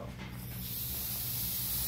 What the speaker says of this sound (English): You want to keep the spray level and then just spray the dust off